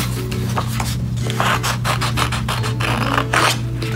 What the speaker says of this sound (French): on peut juste couper autour des lignes